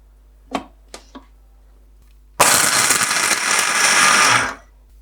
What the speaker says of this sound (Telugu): ఇప్పుడు ఇది మిక్సీ పట్టుకుందాం